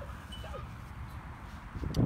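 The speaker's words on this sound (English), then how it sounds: "there's a little wiener dog" A small dachshund at a dog park gives a few thin, high whimpers and then a short bark near the end, moderately close, over steady outdoor background noise.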